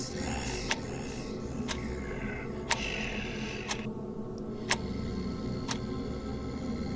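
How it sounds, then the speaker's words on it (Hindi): A wall clock ticks in a quiet room, with sharp, evenly spaced ticks about one second apart, heard close and clear over a faint background hum. "दीवार पर टंगी घड़ी भी ऐसे टिक टिक कर रही थी"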